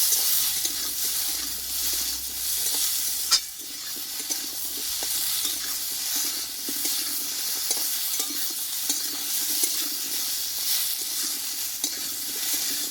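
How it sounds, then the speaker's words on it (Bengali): Chopped okra with salt and turmeric sautéing in a pan for a vegetarian dish, sizzling steadily under repeated scraping stirs, with a brief sharp knock partway through and no voices. "কেটে রাখা ভেন্ডিগুলো আমি দিয়ে দেবো ভেন্ডিটা ভালোভাবে একটু কষিয়ে নেবো আগে"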